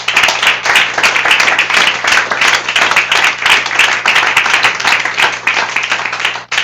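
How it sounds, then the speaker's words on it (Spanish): A church congregation breaks into loud, sustained applause, a dense continuous clapping with uneven surges, and a few voices call out underneath it. "dale aplauso al Rey"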